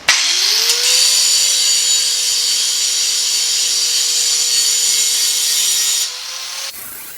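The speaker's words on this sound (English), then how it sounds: "I'm gonna have to grind them down a little bit, round them off a little bit" A power grinder spins up and holds a loud, steady high-pitched whine against lawn mower metal parts for several seconds, rounding them off, then winds down.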